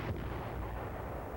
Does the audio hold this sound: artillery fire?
yes